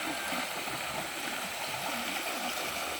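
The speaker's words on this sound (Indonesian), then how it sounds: "sungainya begitu adem, begitu indah, masih enak dipandang" A river flows steadily with a constant broadband rush and soft gurgling, heard close and fairly quiet, with no voices over it.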